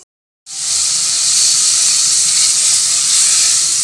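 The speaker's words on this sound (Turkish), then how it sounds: "Evet soğanlarımız da böylece güzelce kavruldu" Onions sautéing in a pan for a Turkish clay-pot dried bean and meat stew, a sudden loud, steady sizzle that starts after a brief silence and holds evenly close to the mic.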